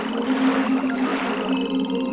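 Frogs croak steadily in a swamp in the King's Quest 8 video game, a continuous layered chorus of droning calls with no talking.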